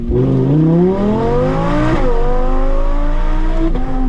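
An Audi R8 V10 Plus engine, heard from inside the car with a window open on an alpine road, revs loudly and climbs through the gears with sharp throttle blips on downshifts, no talk.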